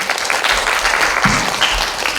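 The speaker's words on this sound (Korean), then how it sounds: "여러분 박수 한번 부탁드릴까요?" Audience applause at a Korean women's policy forum in a National Assembly conference hall as the microphone passes to the next presenter, a short, dense burst of clapping from a sizable crowd with faint voices beneath.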